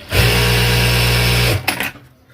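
A Jack A2 sewing machine runs at high speed, a loud, steady close whir lasting over a second before winding down and stopping.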